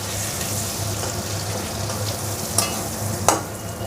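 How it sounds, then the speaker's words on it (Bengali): Spice masala fries and is stirred in a pan with a close, steady sizzle and hiss over a low hum, broken by two brief scraping clicks of a spoon against the pan. "মশলাটা কষিয়ে নেব।"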